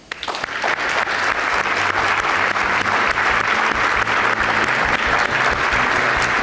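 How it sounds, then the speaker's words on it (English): Dense audience applause fills a conference hall after a presentation at a 2016 Oregon healthcare event. It starts abruptly, then holds steady and loud throughout with no talk over it. "Let's give them a round of applause."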